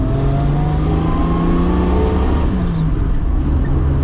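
A Triumph GT6 sports car engine pulls hard under acceleration, its droning note rising steadily, heard loudly from inside with constant road roar.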